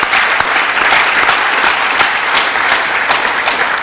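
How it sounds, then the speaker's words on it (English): An audience at a high school senior awards night applauds the athletic boosters: dense, steady clapping from a large crowd fills the room evenly for the whole stretch, with no break and no voices over it. "let's give our athletic boosters a round of applause"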